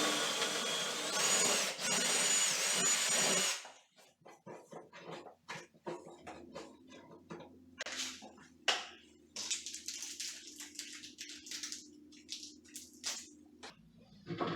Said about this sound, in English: Remember, you put the drill perpendicular to the wood.